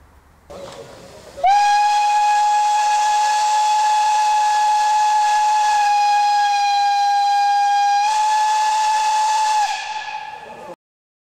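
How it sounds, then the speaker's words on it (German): Steam locomotive 94-15-38 of the Rennsteigbahn sounds a single long, loud whistle as it departs Rennsteig station with its train toward Ilmenau, a steady harmonic tone held for about nine seconds after a brief hiss, then cutting off. "Mit diesem lauten, langanhaltenden Pfiff verließ die Dampflok 94-15-38 der Rennsteigbahn mit ihrem Wagenzug am Sonntag, dem 12. Juni 2011, den Bahnhof Rennsteig in Richtung Ilmenau."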